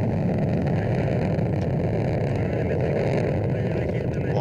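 Soyuz MS-26 rocket engines roaring during launch, a dense continuous rumbling roar that holds steady and loud throughout, with broadband noise like wind on the microphone.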